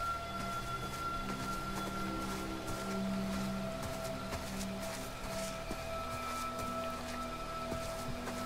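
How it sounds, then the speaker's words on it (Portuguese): Steady rain falls in the horror video game The Quarry, a continuous even patter on surfaces that holds at one level throughout, with a faint low tonal hum of game ambience underneath. "Deve ter sido a chuva."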